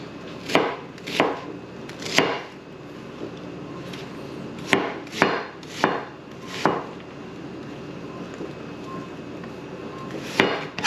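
Onions being chopped fairly fine with a knife on a board: about a dozen sharp, close chops in uneven bursts, with short pauses between them.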